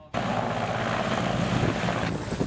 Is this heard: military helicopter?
yes